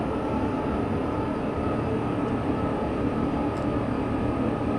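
Heavy freight train rolling steadily through Train Sim World 6 on the Union Pacific Cheyenne–Laramie or BNSF Cajon Pass line, a continuous close rumble of wheels and cars under dynamic braking, with no talk.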